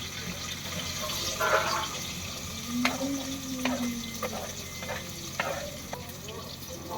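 Onions sizzling in a hot pan alongside green chillies, a steady close frying hiss with a few sharp clinks of a spoon stirring against the metal.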